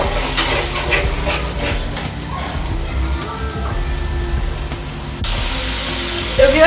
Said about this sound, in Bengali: এরপর আমি মশলাটা খুব ভালোভাবে কষিয়ে নিচ্ছি।